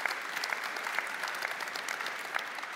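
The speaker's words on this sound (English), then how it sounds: "That deserves a round of applause right here." A church congregation applauds during a service, a soft, fairly distant wash of many hands clapping with scattered sharper claps, steady for a few seconds with no voices over it.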